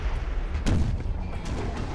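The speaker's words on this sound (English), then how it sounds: "It looks like the cannons are targeting that one." Cannon artillery fire in the video game Napoleon: Total War, with heavy booming shots rolling through a dense battle din, one strong blast standing out midway.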